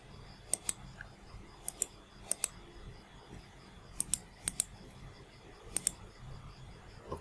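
Computer mouse clicks while working in SolidWorks, heard as crisp, close clicks that mostly come in quick pairs, scattered irregularly over several seconds against a quiet background.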